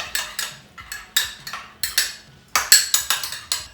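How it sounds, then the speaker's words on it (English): A spoon clinks sharply and repeatedly against a bowl while mixing fresh thyme leaves for a beef roast rub, in quick irregular taps and short rattling bursts, close and otherwise quiet. "Get a spoon, mix it up."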